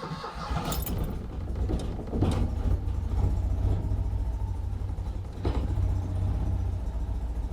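A Citroen 2CV engine turns over and catches, then settles into a steady low idle, loud and close, with a few clicks and rattles over the running engine and no talk.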